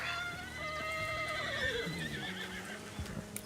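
In the Western roleplay video game GoldRush RP, a spooked horse lets out a long, wavering whinny that rises and falls, with hoof clops and shuffling underneath, close and fairly loud.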